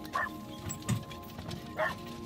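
A dog barks twice, short yips spaced about a second and a half apart, close by over a faint steady background hum.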